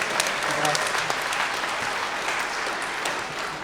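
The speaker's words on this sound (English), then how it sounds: "Give him a nice round of applause." An elementary school audience at a grand opening ceremony gives a round of applause for the superintendent, dense crowd clapping at a steady level throughout, close and fairly loud, with faint voices mixed in.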